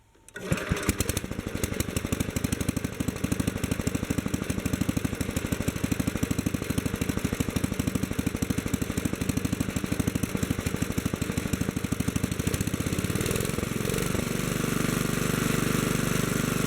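A Kohler K-series single-cylinder engine idles as its carburetor is adjusted, a loud, close, rapid chugging that runs steadily and then shifts in pitch and smooths out toward the end.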